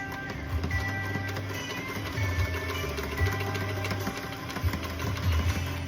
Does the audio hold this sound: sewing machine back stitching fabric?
yes